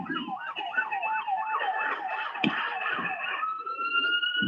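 An ambulance siren wails close by in a street in Edo, Nigeria, fast rising and falling in pitch before settling into a steady tone, over background noise.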